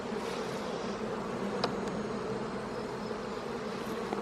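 Bees buzzing densely and continuously around an opened beehive during an inspection, a close, steady drone with no talking.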